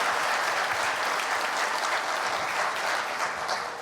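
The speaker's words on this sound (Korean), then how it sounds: "잘했으면 박수 한 번 더 부탁드리겠습니다." A congregation at a national prayer breakfast applauds steadily after a choir's performance, a thick, even sheet of clapping that lasts throughout and fades slightly at the close.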